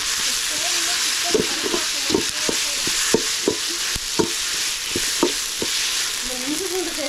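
Ginger garlic paste stir-fried in a pan, with a steady loud sizzle and repeated scrapes and knocks of a spoon stirring against the pan.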